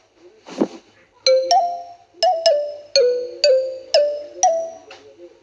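Repeated electronic ringtone with bright two-tone chimes, six short bursts in a steady rhythm, clear and close after a brief muffled noise at the start.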